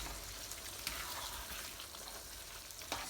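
Curried king prawns in a creamy gravy are turned in a pan, giving a soft, steady sizzle with faint scraping stir strokes and a couple of light knocks, no talk.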